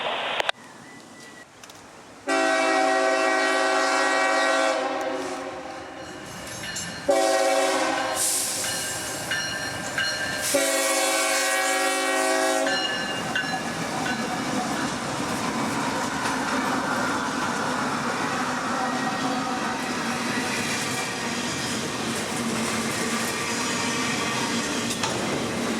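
CSX freight train IO-25 approaches through tall pine forest near Jacksonville, sounding its horn in several long blasts before the rumble and rolling noise of the train build and continue steadily.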